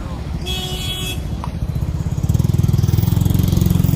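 An impatient driver's car horn sounds a short honk on a coastal road in Davao City, over a steady buzzing motorcycle engine that grows louder and rougher as it passes close by.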